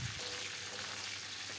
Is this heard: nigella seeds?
yes